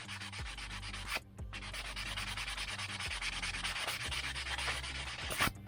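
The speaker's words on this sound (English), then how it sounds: "you just take a sanding sponge and take off those codes" Continuous dry scratchy rubbing of a sanding sponge on hard plastic, removing molded codes, close and steady with brief back-and-forth strokes and a few louder scrapes.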